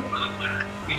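Car driven in the Fortnite video game, a brief burst of engine hum with tire squeal and skidding, loud and close, lasting about a second.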